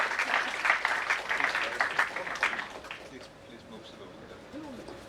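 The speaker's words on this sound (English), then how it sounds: "Ladies and gentlemen, a big round of applause." An audience at a lecture meeting claps in a sustained round of applause that gradually thins and fades toward the end.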